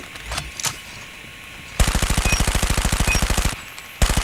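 CBR SMG in COD Mobile firing a rapid, even automatic burst of about two seconds, loud and close, followed after a short pause by another burst starting, with a few faint clicks beforehand.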